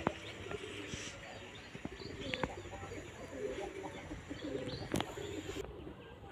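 Pigeons, including rare racing types, coo and chirp softly at an outdoor pigeon race site in the late afternoon, with scattered sharp clicks and faint background noise.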